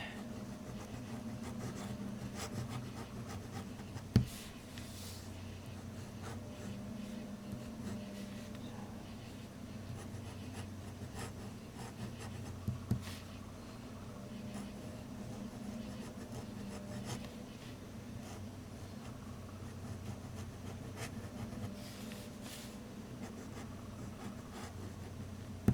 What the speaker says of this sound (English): if I write in a little bit of cursive writing here